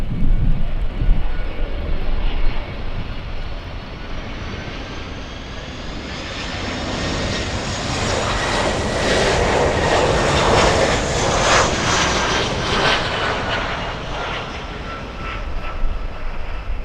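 An airliner landing in a crosswind at Miami airport: a loud, sustained engine roar swells to a peak midway, then eases slightly as it passes close by, with no talk over it.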